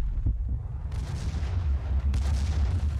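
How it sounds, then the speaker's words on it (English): RPG rockets burst in the Max Payne video game, a heavy, rumbling low-end roar of explosions with fresh blasts swelling in near the start and again partway through, loud and without speech. "I think it's RPGs, not even grenade launchers"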